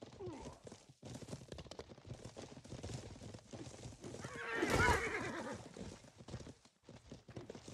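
In a video game, a horse whinnies loudly mid-clip amid a jumble of hoofbeats and game sounds, with players talking over it now and then.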